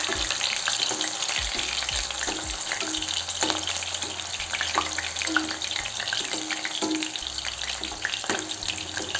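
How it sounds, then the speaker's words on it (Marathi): Soybean chunks fry in a small amount of hot oil, giving a steady, close sizzle with faint scrapes and taps from stirring throughout, no voices. "तेलामध्ये तळून घेऊ सोयाबीन"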